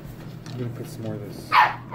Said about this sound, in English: Sorry guys, that was our dog again.